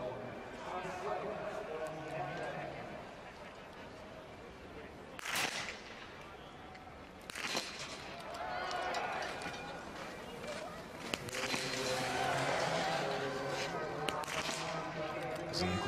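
Rifle shots at a biathlon shooting range during a women's 15 km individual race in Östersund come as a few sharp, separated cracks. They sound faint and distant beneath continuous commentary.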